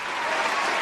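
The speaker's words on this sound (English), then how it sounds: "Let's give me a round of applause." A brief burst of audience applause at a livestream anniversary awards show, dense even clapping with no voices.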